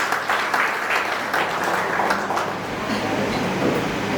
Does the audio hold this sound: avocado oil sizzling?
no